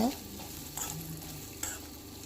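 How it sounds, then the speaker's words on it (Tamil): Garlic, chilies and small pieces of coconut fry together in a pan for a peanut chutney, giving a steady soft sizzle with a couple of brief stirring scrapes and no talk. "இப்போ ஓரளவுக்கு தேங்காயுமே நல்லா ஃப்ரை ஆகிடுச்சு"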